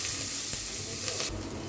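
Chopped onion dropped into hot oil in a pan for egg bhuna khichuri, giving a steady broad sizzle close by, continuous and fairly loud throughout with no talk.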